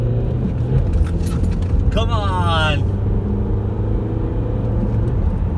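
A car pulls away hard in second gear just after a roundabout, its engine droning loudly and steadily from inside the cabin while a voice briefly shouts over it.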